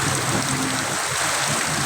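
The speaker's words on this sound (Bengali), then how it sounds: "প্রচণ্ড বৃষ্টি এবং সেই সাথে গাছগুলো দেখেন আপনারা" Heavy rain pours down on trees in Satkhira, Bangladesh, in a dense, steady hiss with no pauses and no voices.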